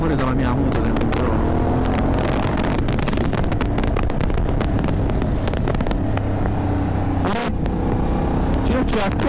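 A motorcycle engine runs steadily while riding on a 2021 outing to Lago di Camastra, loud and close with heavy wind buffeting the microphone, and the pitch shifts as the engine revs change.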